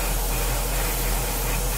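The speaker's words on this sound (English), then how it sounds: "what we're going to do is just lightly mist on the coat" An aerosol spray mists a light coat onto a scale model, giving a steady, close, soft hiss that runs unbroken from start to finish with no talk.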